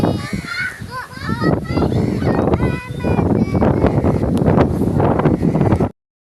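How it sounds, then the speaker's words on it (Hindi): Strong, gusty wind blows outdoors during rain, buffeting the microphone with a constant roar, while children chatter and call out over it throughout. "कितनी तेज़ हवा चल रही है"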